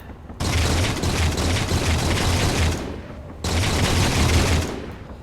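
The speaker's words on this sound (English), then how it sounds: "Oh, missiles incoming." Incoming missiles explode in Space Engineers, two long bursts of dense rumbling blasts and crackling fire, each lasting a few seconds with a short gap between, loud and close with no talk.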